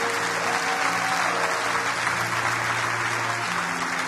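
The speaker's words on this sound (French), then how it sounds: "Acclame, acclame, acclame, acclame, acclame, acclame." A church congregation applauds at a worship service, a dense, steady wash of clapping that holds loud and even from start to finish.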